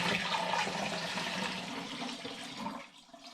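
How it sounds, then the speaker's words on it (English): Sugar water gushes into apple juice in a vessel for cherry bakewell turbo hard cider, a loud close rushing pour that eases off and thins out toward the end. "I'm now going to add the sugar water before I put any more apple juice in"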